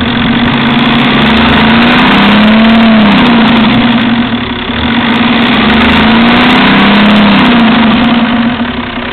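A 1991 Toyota Land Cruiser diesel engine with a newly rebuilt injection pump runs loud and close, idling, then rising in repeated revs and settling back, with no voices.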